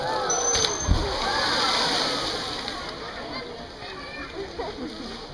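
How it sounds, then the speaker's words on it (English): Dolphins splash in an aquarium show pool, a steady wash of churning water and spray with a sharper slap near the start, fairly close, while a voice talks over it. "So definitely some of the more impressive things that we do know these animals for are their splashing."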